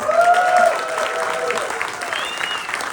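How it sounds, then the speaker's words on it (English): Audience applause at a Q&A session for a Don Dohler double feature: a steady wash of clapping from a crowd, loud and continuous, with a voice briefly over it at the start. "Big applause."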